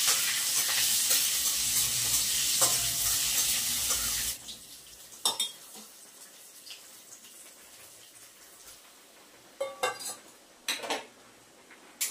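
Panch phoron tempering hits hot oil and lentil dal with a loud, bright sizzle that fills the first four seconds, then settles into quiet stirring with a few sharp clinks of a spoon against the pot.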